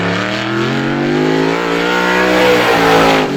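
ISMA supermodified race car number 61, driven by Mike Ordway Sr., running a time trial lap at Star Speedway, a loud sustained engine roar with rising pitch as it accelerates close by, alone without talk.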